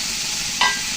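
Bitter gourd and potato pieces frying in a pan for a village-style dish, a constant loud sizzle broken by one short scraping stir near the end.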